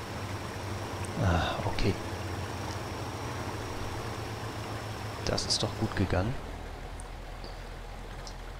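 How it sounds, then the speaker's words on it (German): Strong river current rushing steadily during a truck river crossing in the off-road driving game Mudrunner, a continuous watery wash under someone speaking, with a few splashy bursts. "Oh, die Strömung ist ein bisschen heftig."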